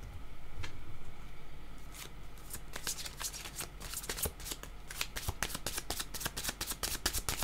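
Oracle cards are shuffled by hand close up in a steady run of crisp riffling flicks that grow denser toward the end, with no voices.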